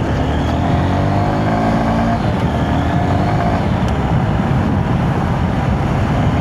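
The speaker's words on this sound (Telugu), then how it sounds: "టూ వాల్వ్స్ ఇంజిన్ అయినప్పటికీ మీకు ఇంజిన్ అయితే చాలా స్మూత్గా ఉంది." Honda Hornet 2.0 motorcycle with a two-valve engine, revving steadily up close on a slightly off-road spot, a continuous loud engine drone with rising and falling harmonics and no voices.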